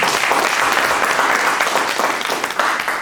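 Sustained audience applause at a development plans masterclass, dense and steady clapping from a full room close by, continuing evenly throughout with no talk over it.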